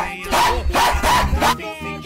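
Dog barking close and loud, three or four heavy barks in quick succession followed by a short quieter trail.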